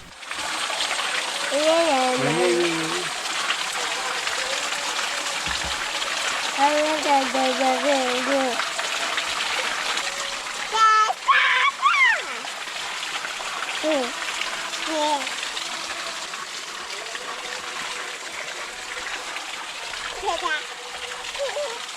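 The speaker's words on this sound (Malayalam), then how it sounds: "വെള്ളത്തിൽ കളിയായി ബഹളമായി കൈയിട്ടടിക്കുന്നു കാലിട്ടടിക്കുന്നു" Water splashes continuously close by as a child plays, with a young voice chattering and squealing over the splashing.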